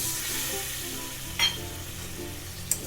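A spoon stirs cumin powder and a little water into a simmering egg curry, giving a steady soft sizzle and scraping with a couple of brief clinks against the pot.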